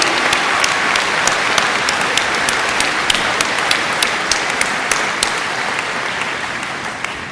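A college graduation crowd applauds at the Northcentral Technical College spring ceremony, with dense, sustained clapping filling the room and a few sharp nearby claps standing out above the steady wash.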